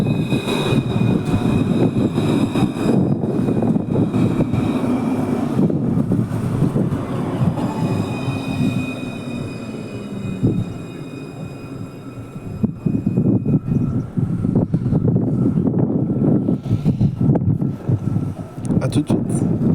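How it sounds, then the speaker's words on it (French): A TAM line 1 tram rolls into its new terminus station, Gare Sud, with a steady rumble of wheels and high, thin squeals from the rails. Someone talks in French over the passing train. "Il y a une autre rame qui arrive à son nouveau terminus."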